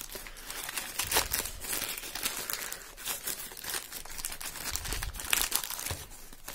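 A small, cheap AliExpress parcel is torn open by hand, its plastic packaging crinkling and crunching steadily and close up, with sharper tearing bursts throughout and no talking.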